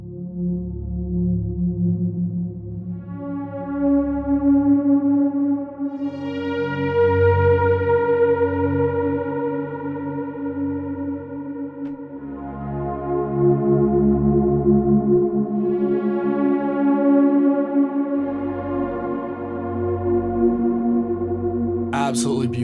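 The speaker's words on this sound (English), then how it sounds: "we're going to actually do a volume swell and it's going to slowly fade in our reverb sound" Strymon BigSky reverb plug-in at 100% wet mix, played as volume swells: sustained chords fade in slowly and bloom into a lush, long reverb wash, with no voices over it.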